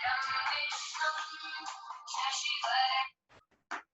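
A phone ringtone plays during a Class 12 physics lecture on Kirchhoff's law, a bright melodic electronic tune lasting about three seconds, followed by a few short fainter beeps.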